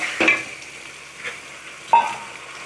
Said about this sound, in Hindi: प्याज हमारा हल्का गोल्डन हो गया, अब हम इसमें गोश्त डालेंगे